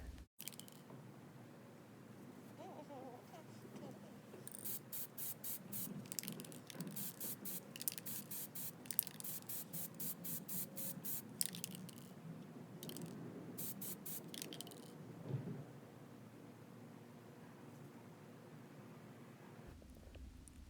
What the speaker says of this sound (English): spray paint those so you can have a good base